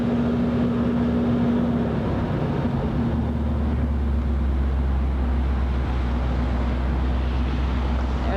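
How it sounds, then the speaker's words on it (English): Vehicle engine idling steadily on a mountain road with many switchbacks, a continuous low rumble with a faint hum, loud and close, mixed with wind noise and no talk. "He's running his engine"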